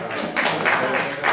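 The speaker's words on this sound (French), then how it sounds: "On peut applaudir très fort Jonathan." A short burst of crowd applause at a community gathering in Netanya, dense and fairly loud, with hands clapping in uneven surges.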